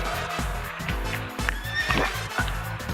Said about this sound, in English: Mind Baby's neighing a lot.